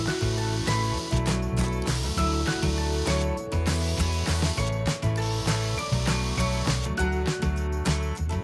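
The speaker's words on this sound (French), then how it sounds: "Visser le rail." A power screwdriver drives screws to fix the guide rail of an aluminium sliding gate to the ground, giving a steady loud mechanical whirring with a repeating rhythmic pattern and brief pauses between bursts.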